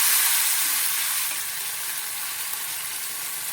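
Freshwater snails go into a hot pan for a spicy Bengali curry, giving a bright, loud sizzle that starts strong and settles into a steady hiss, heard alone.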